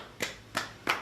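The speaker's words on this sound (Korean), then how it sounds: "일단 박수 한번 주세요." Three quick, separate hand claps, fairly quiet and evenly spaced, in a studio while a reporter weaves a flower arrangement.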